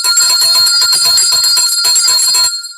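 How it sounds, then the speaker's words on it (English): A bell rung rapidly and continuously, loud and close, with bright ringing tones and a rattling strike pattern that stops abruptly and leaves a brief fading ring. "I have to ring the bell for that."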